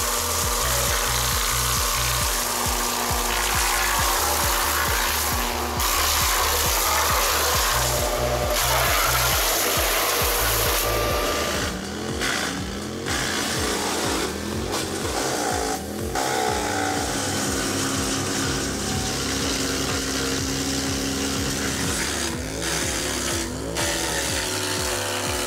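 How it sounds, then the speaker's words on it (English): A modern wood chipper machine chips wood with a continuous loud, dense grinding roar and rhythmic thumping, steady throughout without any voices. "this is the ideal chipper for working in clearings, sawmills, farming or forestry."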